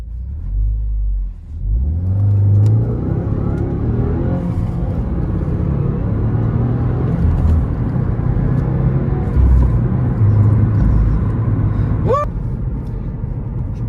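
A 2018 Subaru WRX sedan driving, with a steady engine rumble and road noise building after a quiet start and continuing loud and close throughout, with brief revving.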